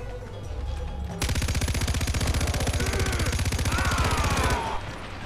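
Rapid machine gun fire from an elephant-mounted position in Far Cry 4 bursts out suddenly and hammers in a loud, continuous rattle for about three seconds before cutting off, with game ambience before and after.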